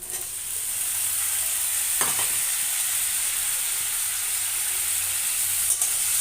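Cut potatoes fry in a pan over a raised flame with a steady, loud sizzle, while a spatula stirs them with an occasional scrape and clatter, close up and without talk.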